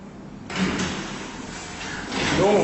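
Original lift doors slide open at the Capital on the Quay building. A smooth, moderately loud sliding rush starts near the middle and carries on as the doors run, followed by a short electronic tone near the end.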